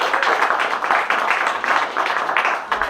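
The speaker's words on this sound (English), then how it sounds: "Can we have a wee round of applause?" An audience at the Future Orchard Heritage event at The Boothouse gives a brief round of applause, a dense, fairly loud patter of clapping hands that carries on steadily without anyone speaking.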